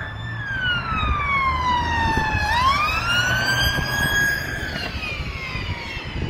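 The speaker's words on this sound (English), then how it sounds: "It's always sirens" A wailing emergency siren sweeps down and back up in pitch over steady traffic rumble on North Promenade, Blackpool, in the morning, fairly close and loud.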